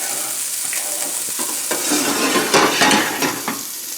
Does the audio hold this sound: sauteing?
yes